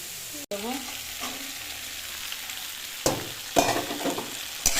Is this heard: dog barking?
no